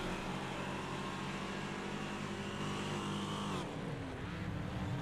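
Trans-Am race cars in the Wreckfest video game roar together in a dense, loud engine drone that drops suddenly near the end as the pitch shifts, with no voices over it.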